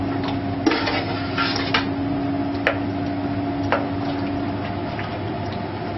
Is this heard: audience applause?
no